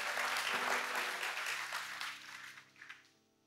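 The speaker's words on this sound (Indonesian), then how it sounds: "Yang mau kasih tepuk tangan dulu yang paling meriah buat." A church congregation breaks into applause during a sermon, a brief burst of many hands clapping that fades away over a few seconds, fairly faint and distant-sounding.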